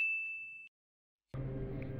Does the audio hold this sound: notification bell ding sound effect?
yes